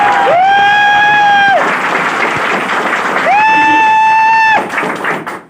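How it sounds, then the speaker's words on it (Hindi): Loud applause and cheering from an audience at a business motivational talk, a dense roar of clapping that runs continuously with sustained electronic tones over it, then fades out at the end. "जोरदार तालियां बजा दीजिए"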